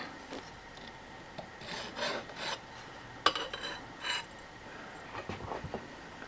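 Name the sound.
deburring a cut edge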